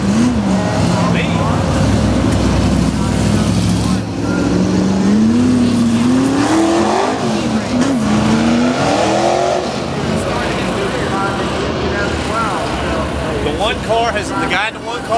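Race cars speed around a track in Senoia, their engines whining up and down in loud, repeated revving sweeps, with voices talking over the roar.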